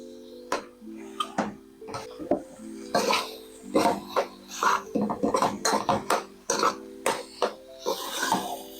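Gluten-free stuffing is mixed in a bowl, with a steady run of close scraping and clinking from the utensil against the bowl, broken by a few coughs and low tonal sounds.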